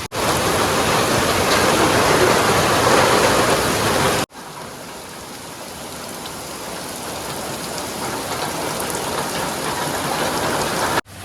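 Heavy rain pours steadily in a dense, loud hiss, continuing unbroken after a brief cut midway.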